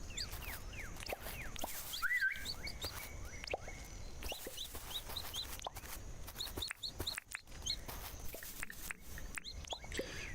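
A chicken in the farming video game Mangrove Isle clucks in short repeated calls over a busy outdoor ambience of chirps and rustling, moderately faint, with no talking.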